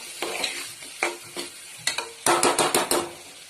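Tomatoes stir-fried in a pan for a ridge gourd and chana dal dish, a sizzle broken by a series of sharp spatula scrapes and knocks against the pan, faster toward the end.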